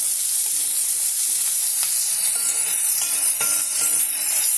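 Chopped onions frying in hot oil in a pan while making carrot rice, a loud, steady close-up sizzle with occasional faint stirring scrapes, no speech.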